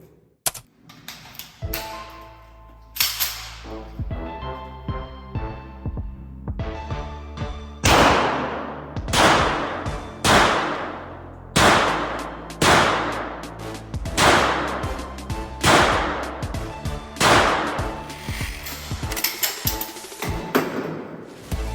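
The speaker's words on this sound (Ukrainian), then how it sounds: "Зараз відстріляємо патронами 9-19 на кучність. Відстань 25 метрів." Rapid pistol shots from 9x19 cartridges test fired at a 25-metre indoor shooting range, a string of loud, sharp reports in quick succession with short pauses between bursts, no talking.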